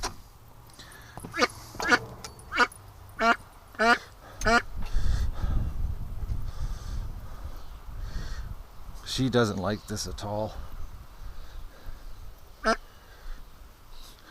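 A duck with a suspected hip problem quacks loudly and repeatedly while being handled for treatment. The harsh, close quacks come in bursts between stretches of people talking.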